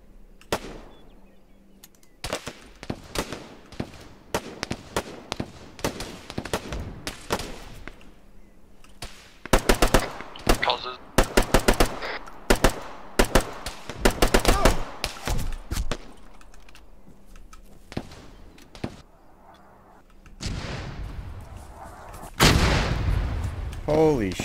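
Loud, rapid bursts of gunfire and heavy explosive blasts from Arma 3 Antistasi combat, dense irregular volleys and booming detonations through most of the stretch, with a louder sustained roar near the end.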